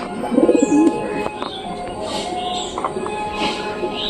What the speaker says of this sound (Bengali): দেখতে পাচ্ছ সব কবুতরই ঠিকঠাক আছে